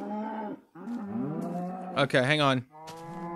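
Cows in the Minecraft video game give several drawn-out, loud moos in quick succession, one rising and wavering toward the end, with a person briefly talking between the calls.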